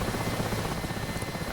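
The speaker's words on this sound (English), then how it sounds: "this helicopter with one engine out" A Mi-8 helicopter in DCS World flies with one engine out, its rotor and turbine forming a loud, dense, unbroken drone with a fast throbbing beat throughout.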